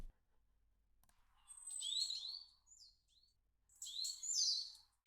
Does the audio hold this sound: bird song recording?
yes